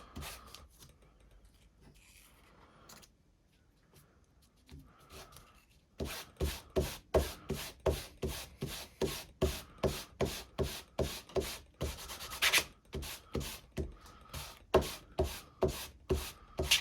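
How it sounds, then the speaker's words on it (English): An ink pad is scraped repeatedly across pattern paper in a quick, even rhythm of close, dry scratchy strokes, following a few quiet rubbing sounds at first; no talking. "Just get your ink pad on it and scrape it all over the top."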